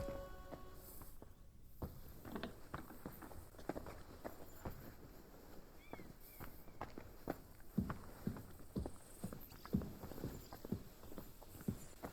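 Horse hooves clip-clop in the medieval game Kingdom Come: Deliverance II, a string of sharp knocking steps at an uneven walking pace, fairly faint and close, with no talk.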